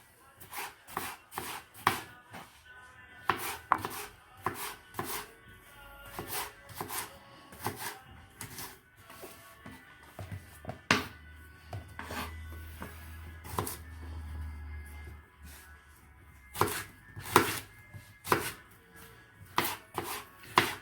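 Unpeeled carrot being chopped with a knife on a board, a long run of crisp close cuts in quick irregular bursts with short pauses between.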